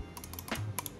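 Clicks from a Logitech G Pro gaming mouse being tested at a desk: several sharp, close clicks spaced irregularly across about a second, with no talking.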